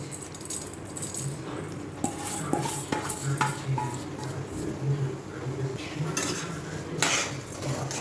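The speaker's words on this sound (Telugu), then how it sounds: "నెయ్యి కూడా బాగా వేడెక్కింది దీనిలోటి కొద్దిగా గోధుమ కలర్లో మారినంత వరకు బియ్యాన్ని మనం వేపుకోవాలి" Rice is stirred and roasted in hot ghee in a pan for khova rice peda. A spoon scrapes and clinks steadily against the pan over a faint sizzle, close up and continuous.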